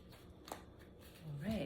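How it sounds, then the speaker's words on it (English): Tarot cards are shuffled in a soft, brief riffling flutter, close and fairly quiet, with a voice starting to speak toward the end. "shuffling my cards here"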